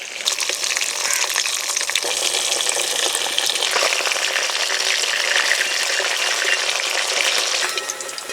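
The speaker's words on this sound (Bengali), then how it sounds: "মাছ ভাজার সময় উনুনের জাল একেবারেই কমিয়ে দিলাম।" Bata fish fry in hot oil over a very low flame, a constant soft hiss and crackle of bubbling oil that holds evenly, close up and with no voices.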